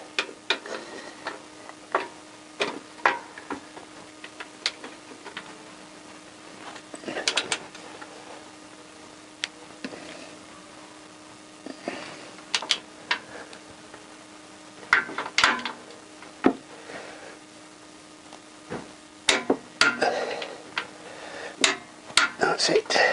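A spanner with an extension bar tightening 12mm engine bolts on a Honda CBR1000F motorcycle being reassembled, making scattered metallic clicks and ticks in irregular bursts, close by, with a steady faint hum underneath and little other noise.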